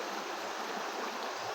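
Creek water flows in a steady, close broadband rush with no break and no talk.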